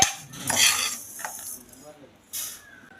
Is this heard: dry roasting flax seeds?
yes